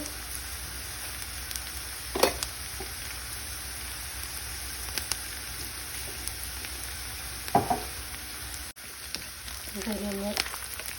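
Onions frying with cumin and fennel seeds in a pan, a soft, steady sizzle with a few clinks and scrapes of stirring. A voice is briefly heard near the end.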